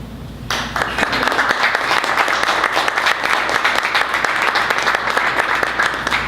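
An audience at a poetry reading breaks into steady, close applause that starts abruptly and keeps a dense, even clatter of many hands clapping to the end.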